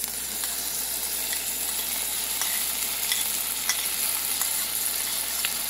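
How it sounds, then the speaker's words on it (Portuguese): Cuxá (vinagreira leaves), seasoned with a pinch of salt, sizzle in a pan with a constant close frying hiss and occasional light scrape and stir sounds. "E aí já vai o cuxá agora aí para ser frito junto ali"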